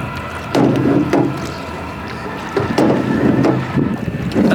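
Paddle strokes splash and swish through the water as a canoe with kayak-style side paddles moves across the lake in Central Park, in uneven bursts under steady wind noise.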